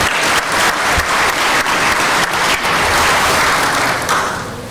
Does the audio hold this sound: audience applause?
yes